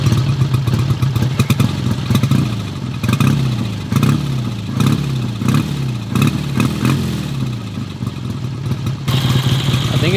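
A 72-year-old British Ariel motorcycle engine revs repeatedly, loud and close, each burst of throttle rising and falling in a steady rhythm, with no talking.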